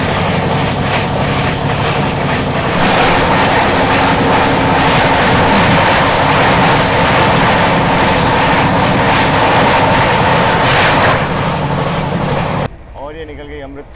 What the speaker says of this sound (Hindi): तो भाई साहब, ये है आप सभी के सामने back to back high speed run. क्या भाग रहे प्रायोरिटी पे। ये आगे स्वराज एक्सप्रेस।